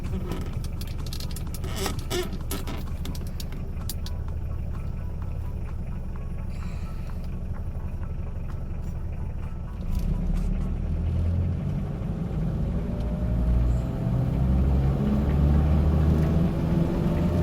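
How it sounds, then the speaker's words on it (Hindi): An automatic-transmission car engine held in low (L) gear revs high without shifting, a steady loud rumbling drone that builds and grows heavier partway through, heard alone without talk. "ये देखें आरपीएम हाई है और गियर चेंज नहीं हो रहा"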